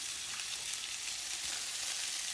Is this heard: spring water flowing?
no